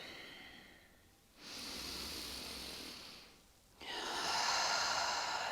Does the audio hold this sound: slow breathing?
yes